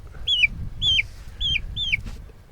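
A young chick, fuzzy-footed and outdoors for the first time, gives four clear, evenly spaced high chirps close by over low background rumble.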